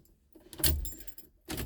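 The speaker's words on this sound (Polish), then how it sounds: "Zaraz bym się tu zaplątały te klucze." A bunch of keys jangles briefly near a 1972 Mercury Monterey Custom, two short metallic rattles with a quiet pause between.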